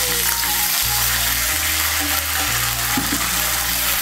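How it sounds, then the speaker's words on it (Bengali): Cumin paste frying in oil with a splash of water added, a loud close dense sizzle that fills the whole stretch, joined by a low background hum and some stirring. "এর মধ্যে আমি দিয়ে দিচ্ছি সামান্য একটু জল।"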